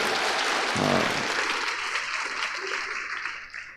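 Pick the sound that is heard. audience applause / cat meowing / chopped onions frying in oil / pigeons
audience applause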